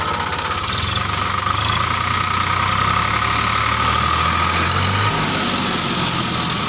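Sonalika DI 35 tractor, a 35 HP three-cylinder diesel, idling with a steady, close low rumble and an even knocking pulse that holds throughout.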